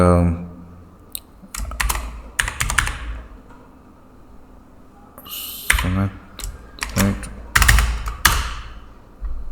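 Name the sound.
typing a password on a computer keyboard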